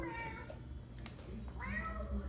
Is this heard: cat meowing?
yes